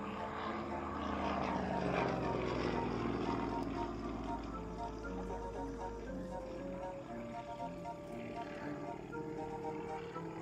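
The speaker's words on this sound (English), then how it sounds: "Snap rolling the airplane, he points the heavy end down." A Pitts Model 12 aerobatic biplane flies a snap roll, its propeller engine droning and shifting pitch from near to slightly farther, with a steady rising and falling tone over the whole stretch.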